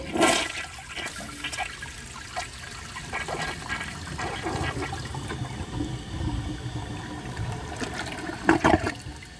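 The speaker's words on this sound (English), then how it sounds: "I'm going to do a press and release flush" A 2007 Kohler Highline Ingenium toilet with a clogged siphon jet gives a press-and-release flush: a steady rush of draining water runs throughout, with a louder gurgling surge near the end, close and alone.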